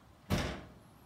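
An integrated kitchen dishwasher door fitted with a panel closes in one quick, soft thud with a short rustling tail, then quiet room tone.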